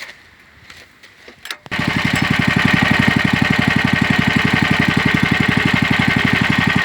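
After a few quiet clicks, a mini tractor engine catches and settles into a loud, steady, rapidly pulsing run, close up and throttled up, with no talk.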